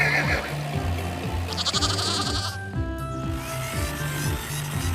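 Sheep bleating in an animated children's cartoon about construction vehicles and farm animals, heard over a continuous bouncy music bed with mechanical ratcheting sounds.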